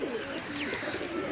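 Pigeons coo softly on a rooftop in a short, low, rolling call, close and alone.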